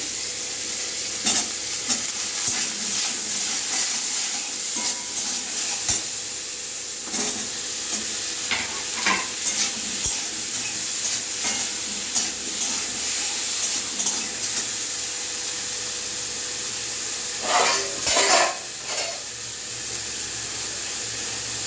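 Vegetables for shukto frying with salt and turmeric in a pan, a long steady sizzle with intermittent scraping stirs, busier near the end.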